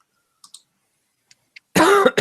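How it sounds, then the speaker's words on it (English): A man coughs twice near a microphone, a harsh burst followed quickly by a shorter one, after near-silence broken only by a few faint clicks. "I got to stop coughing."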